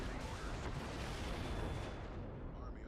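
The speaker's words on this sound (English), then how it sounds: "They are actually using artillery" Heavy artillery barrage in a wartime strategy game, a dense continuous rumble of booms and blasts that stays loud throughout, with bursts blending into one another.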